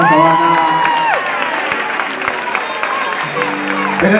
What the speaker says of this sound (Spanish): Los aplausos bien fuertes para toda esta banda.